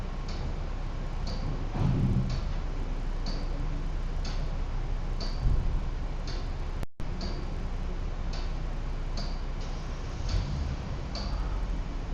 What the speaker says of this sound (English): If you can hear the ticking of the clock,